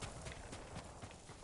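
Horse hooves clip-clopping at a steady trot in the video game Ghost of Tsushima, rhythmic and fairly close, but faint overall.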